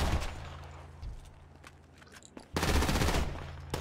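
Rapid bursts of automatic gunfire in Grand Theft Auto V crackle at the start, a quieter stretch follows, then a loud sustained volley erupts near the end.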